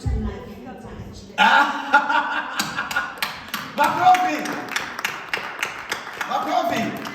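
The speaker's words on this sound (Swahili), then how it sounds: "Makofi." Applause and scattered clapping ring out through a Sunday church service at Rehobot Church in Umeå, a burst of many hands starting abruptly after a low voice, then continuing with uneven taps and a few chuckles.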